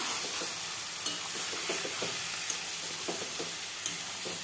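Spinach with a little turmeric stirred in a pan, the greens cooking in their own released water: steady soft sizzle with repeated scraping stirs of a spoon against the pan, close and moderately loud, no talking.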